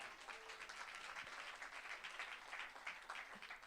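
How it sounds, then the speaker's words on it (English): An audience at a student music showcase gives a faint, steady round of applause, many hands clapping evenly at a distance throughout the short stretch. "Give them a round of applause."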